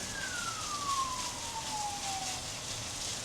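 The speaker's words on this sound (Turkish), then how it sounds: "Ambulans geliyor." A siren wails from a distance, its pitch sliding steadily downward as the vehicle passes, over a constant hiss of background noise.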